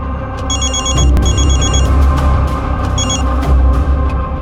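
A telephone rings with repeated trilling bursts in short groups, loud and close, over a busy low background in a crime drama scene.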